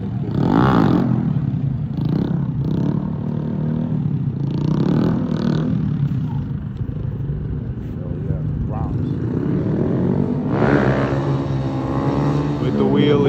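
A Honda Grom mini bike with a small 4-stroke engine popping a wheelie, its motor revving and surging amid loud traffic and engine rumble, with people talking excitedly close by over the noise.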